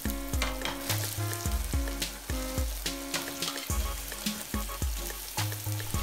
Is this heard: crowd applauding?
no